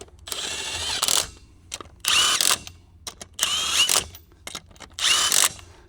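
Power driver tightening lug nuts in a star pattern on a Can-Am Commander wheel, four loud whirring bursts of about half a second each, separated by brief pauses with small clicks between them.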